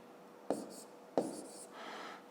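Pen writing numbers by hand on paper during a fifth-grade math exercise, two sharp taps each followed by brief scratchy strokes, then a softer sustained scribble, close and quiet.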